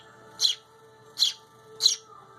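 A pet bird gives three short, bright chirps, evenly spaced and close by, while being fed, with no talking.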